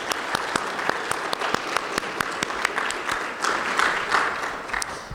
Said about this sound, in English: So I think we all owe a round of applause to Diane Edmondson and Bill Crocker